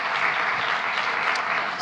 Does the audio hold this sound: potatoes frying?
no